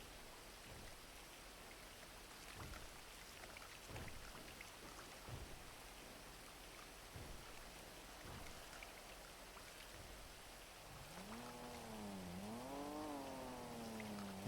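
Steady rain falls in a GTA V roleplay game, a soft continuous patter with occasional low rumbles, joined near the end by a wavering tonal sound.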